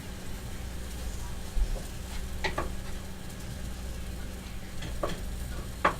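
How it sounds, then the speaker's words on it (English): Mushrooms sauteing in a pan for moussaka, a steady low sizzle and fry with occasional stirring scrapes and clicks, heard alone at moderate level. "we've got to saute these mushrooms"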